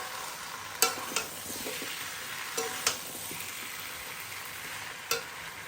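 Cabbage, boiled beforehand, stirs and sizzles in a wok for a home-cooked curry: a steady frying hiss with a few sharp scrapes and clicks of the spatula spaced through it, no talking.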